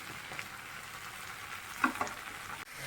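Ginger paste and chili powder fry in a pan with a steady, close sizzle, and a couple of brief stirring scrapes break through near the end.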